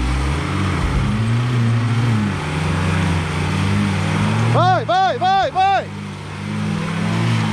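A Renault Duster stuck in mud revs its engine with a strained, wavering drone, while voices shout loudly over it near the end.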